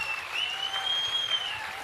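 Audience applause in a hall at a Kannada mimicry comedy show, a steady wash of many clapping hands lasting the whole moment, fairly loud and unbroken with no talk over it.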